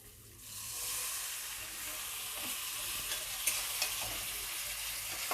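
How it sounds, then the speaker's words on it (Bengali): A vegetarian potato curry (aloo dum) is stirred in the pan just after a little water goes in, giving a close, steady sizzle and hiss with occasional soft scrapes of the spoon. "অল্প একটু জল দিয়ে এইটাকে আমি ভালো মতন করে নাড়াচাড়া আমি করব।"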